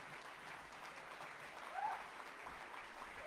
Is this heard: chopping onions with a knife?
no